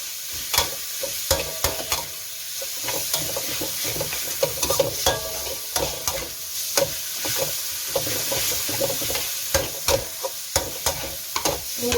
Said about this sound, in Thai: เราก็ใส่หมูลงไปเลยค่ะ เร่งไฟขึ้นเลยนะคะใส่หมูแล้วนะคะ